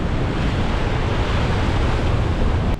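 Strong wind at a Sri Lankan beach roars across the microphone over crashing surf, a loud, constant broadband rush with no voices.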